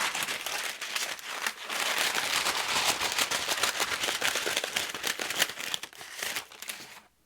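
Dense, continuous crinkling of parchment paper being crumpled and handled up close, loud and steady for several seconds before trailing off.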